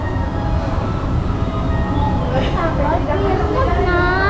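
Interior rumble of a Hong Kong tram ride, a steady low-frequency rolling drone with squealing wheel tones rising midway, continuous and fairly loud, with people talking over it.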